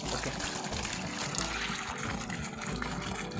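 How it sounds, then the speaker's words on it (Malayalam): Water splashes and trickles steadily from a homemade fish pond filter outlet, a continuous liquid gush with a low pump-like drone underneath. "വെള്ളം ഓണാക്കി വെള്ളം ചാടുന്നുണ്ട് ഇപ്പോൾ"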